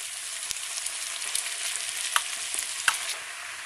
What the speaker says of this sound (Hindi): अब इसमें हम वर्मीसिली को डालेंगे,